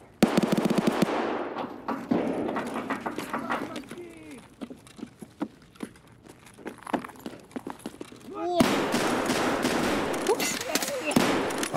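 Gunfire in Escape From Tarkov: dense bursts of automatic shots and single cracks, some near and loud, others more distant, coming in clusters over several seconds, with players talking over it.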